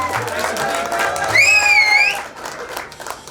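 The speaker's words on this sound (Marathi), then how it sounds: "भगवानसाठी टाळ्या होत्या" Audience applause at a 2025 employees' gathering of the Bhiwandi bus depot, a steady patter of clapping from the crowd during an award ceremony, running under a voice and a tonal whistle-like sound midway.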